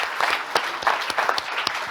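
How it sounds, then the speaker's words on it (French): Audience applause at a closing evening event of an international week in Nantes, welcoming a communications director to the stage; a short burst of clapping with a few distinct, sharp individual claps standing out. "Avec vos applaudissements pour accueillir notre Franck"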